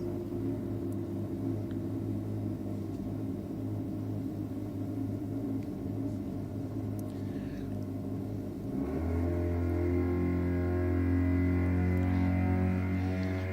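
Rotary-engined race car at a roll racing event: a steady mid-pitched engine drone that suddenly climbs to a louder, higher rev as the car winds up and accelerates, heard from a moderate distance.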